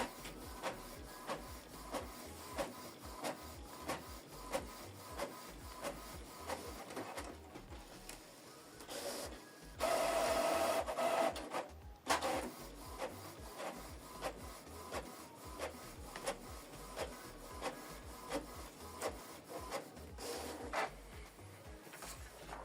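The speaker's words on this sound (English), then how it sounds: "So it's printing the document." A Canon Pixma TS5350i inkjet printer prints a document double-sided, its carriage and rollers whirring and clicking in a steady, repeating rhythm, with a louder mechanical whir midway.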